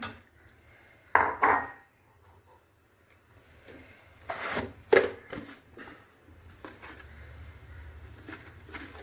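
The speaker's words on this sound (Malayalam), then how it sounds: "അപ്പം കഴുകി വെച്ച ചിക്കൻ്റെ പാർട്സ് നമുക്ക് കുക്കറിലേക്ക് ഇടാം." Washed chicken parts go into a pressure cooker in a home kitchen: a few sharp metallic clatters and knocks, with two louder bursts between quieter handling sounds.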